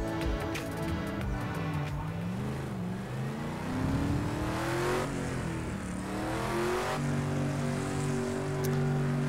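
A Project CARS 2 race car engine pulling out of its pit box for qualifying at Sugo in Japan, revving and rising in pitch through gear changes, then settling into a steady drone, with no talk over it.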